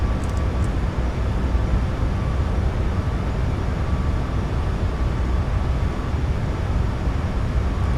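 Boeing 737 MAX 8 engines in a flight simulator spooling up to climb power, a loud, steady, broadband roar with a faint whine, continuous throughout.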